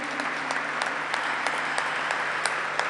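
Audience at a ceremony honoring Malvinas veterans claps steadily, a dense even applause with distinct hand strikes, moderately close and continuous throughout.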